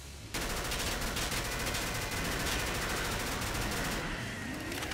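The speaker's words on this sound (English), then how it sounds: "Let me shoot the other one." Rapid automatic gunfire from the video game Killing Floor, a dense sustained burst of shots starting abruptly after a brief quiet moment and continuing loudly to the end.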